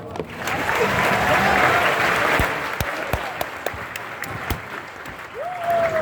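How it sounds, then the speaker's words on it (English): Loud crowd applause with cheering swells and fades at a high school pep rally, scattered sharp claps and a whistle poking through as the clapping thins out. "Big round of applause."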